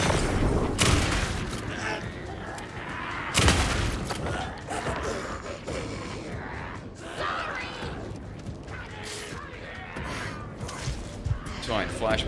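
A flashbang goes off in the video game Alan Wake 2, with sharp booming bursts and crackling blasts amid game noise, while people talk over the action throughout.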